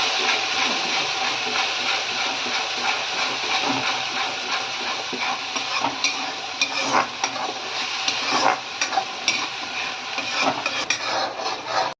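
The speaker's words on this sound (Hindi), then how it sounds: "तो तेल गरम हो गया था, उसके बाद डाल दिया है प्याज का पेस्ट, वो पक गया। यहाँ पर डाल दिया है टमाटर वाला पेस्ट। अब बस अच्छे से पका लेते हैं।" Onion paste and tomato paste cook in hot oil in a pan, giving a dense, continuous sizzle and bubble that stays loud and close throughout, with faint stirring scrapes over it and no speech.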